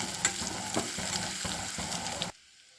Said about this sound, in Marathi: हे सर्व साहित्य व्यवस्थित परतून घ्यायचं